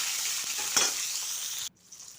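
Tomato is dropped into a hot frying pan while cooking a potato and cauliflower curry, a close, steady sizzle that cuts off abruptly after under two seconds.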